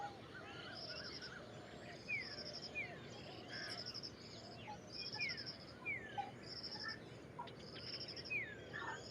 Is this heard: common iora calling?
yes